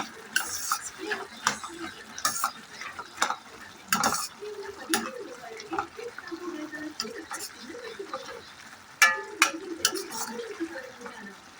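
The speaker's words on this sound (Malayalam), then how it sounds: "ഒന്നര സ്പൂൺ മുളക് പൊടി ചേർത്തു നന്നായിട്ട് ഇളക്കി കൊടുക്കുക" Curry of ridge gourd and milk being stirred in a pan after masala chili powder goes in, giving a gentle sizzle with soft scraping spoon strokes and occasional clinks, close and moderately quiet with no talk.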